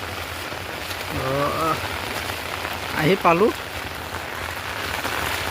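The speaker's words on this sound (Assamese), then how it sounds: "বতৰ বহুত বেছি বৰষুণ দিছে" Heavy monsoon rain pours in a constant dense hiss over farm fields throughout, with someone speaking briefly twice over the downpour.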